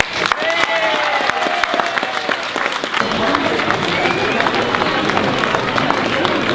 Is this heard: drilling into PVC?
no